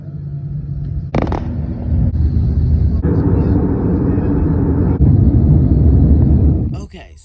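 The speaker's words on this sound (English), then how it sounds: "Okay, so I am on the plane." Loud, steady cabin roar fills a passenger airplane in flight between Chicago and Fort Myers, a dense low rumble with a few abrupt shifts in tone, including a brief bright burst near the start and a fade at the end.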